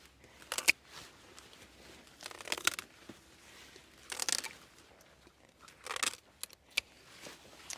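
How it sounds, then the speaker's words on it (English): Yacon plant foliage being cut away by hand in a garden, giving a series of short, close snipping and tearing bursts with rustling leaves in between, irregular and fairly quiet with no talking. "let's get some of this foliage cut away off here."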